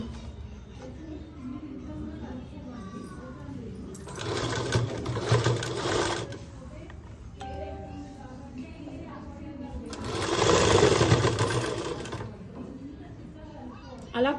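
Sewing machine stitching a folded cloth edge on a school skirt, two loud bursts of steady whirring stitching of about two seconds each, separated by quieter handling and a person talking.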